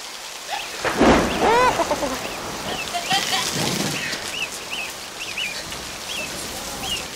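Steady rain pours down with a low rumble of thunder, while birds chirp intermittently in the background and a voice briefly calls out near the start.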